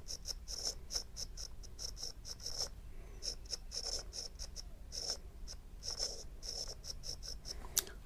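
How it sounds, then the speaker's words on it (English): An S Pen stylus scratching across the screen of a Samsung Galaxy S24 Ultra fitted in a UAG Monarch Pro Kevlar case, with short, close, quiet scribbling strokes in quick irregular bursts over a faint steady hum. "So no issues with it writing with the S Pen here."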